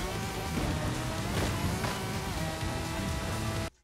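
Heavy rain in the racing game Forza Horizon 5, a dense steady wash of downpour with car engine rumble underneath, continuous and loud, cutting off abruptly at the end.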